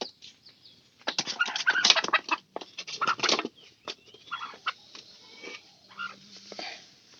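A hen on a rural homestead makes irregular bursts of clucking and fluttery squawks, loud at first and then trailing off into scattered calls, with no talking.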